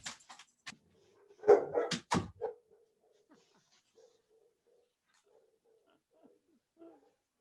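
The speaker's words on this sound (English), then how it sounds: "my dog's making a lot of noise" A pet dog barks loudly in a rapid cluster of sharp barks early on, then trails off into scattered faint whimpers and soft whines indoors.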